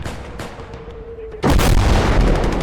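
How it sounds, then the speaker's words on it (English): A Call to Arms: Gates of Hell battle carries on with scattered distant booms and a faint whine, then one sudden, loud artillery shot erupts and its heavy rumble lingers to the end. "Sure, that's a devastating shot."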